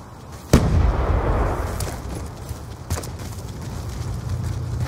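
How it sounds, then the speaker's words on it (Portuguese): A grenade goes off in Call of Duty 2 with one sharp, booming blast, then a couple of fainter bangs and crackles trail off over a rumbling battlefield backdrop. "Jogando granada."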